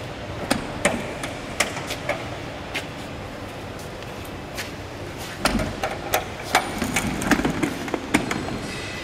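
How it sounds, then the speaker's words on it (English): Suction material is taken out of a monobloc dust extractor unit holding grinding dust, with scattered knocks, clunks and sharp taps over a steady background rumble. "We will now show you how the suction material is being taken out of the unit."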